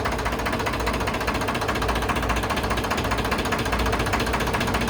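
A Farmtrac 60 tractor diesel engine after a fuel pump job, running with a steady, loud, rapid clatter and dense vibration throughout, close up and with no talk over it.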